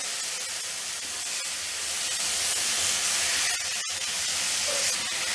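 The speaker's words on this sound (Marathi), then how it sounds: "आपण टाकणार आहोत बारीक चिरलेला टमाटा तो पण चांगला परतून घ्यायचा आहे" Finely chopped tomato fries in a pan over sautéed ginger and garlic for paneer bhurji, a steady loud broadband sizzle and hiss running unbroken throughout, with no talk.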